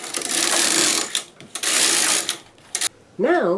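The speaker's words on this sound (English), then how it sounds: "And now I'm going to knit to row 22." A knitting machine carriage slides across the needle bed to knit a row of a Christmas pickle piece, making loud rasping, whirring passes broken by short pauses and clicks. A person starts speaking at the end.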